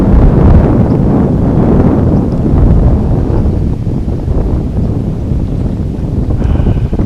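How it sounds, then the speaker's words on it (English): Strong wind buffets a kayak on open water, a loud, steady roar of gusts rushing over the microphone with no break for several seconds, faint water sounds beneath. "this wind is blowing me around all over the place"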